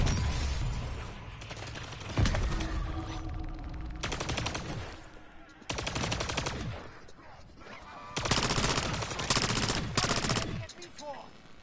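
Friendly-fire gunfire in a zombie video game, loud bursts of rapid automatic shots arriving in several separate volleys with short gaps between them.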